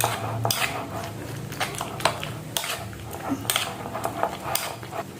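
A spoon slowly stirs a snack filling mixture, producing a series of light clinks and scrapes against the container at an unhurried rhythm, close and soft.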